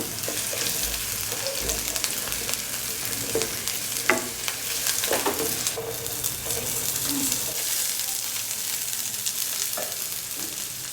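Ginger and green chillies being stirred as they fry in a pan, with steady sizzling and intermittent scraping strokes of the spoon throughout.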